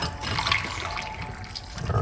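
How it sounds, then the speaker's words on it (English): Tea is poured from a pot into a cup, giving a short, soft, steady trickle of liquid close by, with no talk. "I'm gonna pour off this cup of tea before I even do anything"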